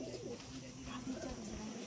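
Giribaz pigeons in a loft coo softly and repeatedly nearby, their low rolling calls faint beneath quiet background talk.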